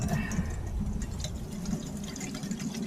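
Water poured to fill a canteen at an outdoor camp, a steady low gurgling and splashing flow lasting throughout, fairly close and moderately quiet, with no talk.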